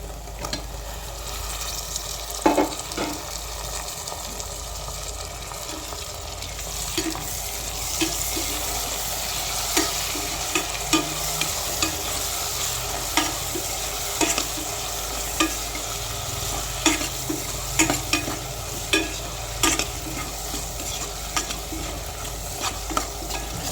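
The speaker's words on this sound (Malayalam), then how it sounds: "നമുക്ക് കുറച്ച് തക്കാളി കൂടി അതിലേക്ക് ഇട്ട് കൊടുത്ത് നല്ല പോലെ വഴറ്റിയെടുക്കാം" Tomatoes are sautéed in a pan for a homestyle pork roast, giving a steady, broad sizzle. A spoon or spatula scrapes and taps against the pan in repeated strokes.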